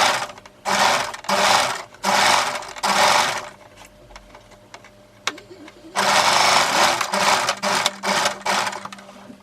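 A sewing machine stitches a circle skater dress in rapid close bursts of whirring and clatter, several quick runs, a quieter pause, then longer runs of stitching.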